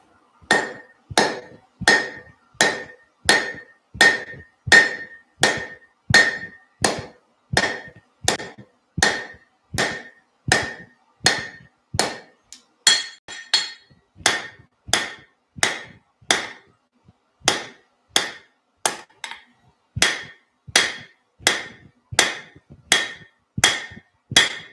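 Hammer blows forging a weld in metal, struck in a steady rhythm of about one per second, sharp ringing impacts close up with a brief pause partway before the strikes resume.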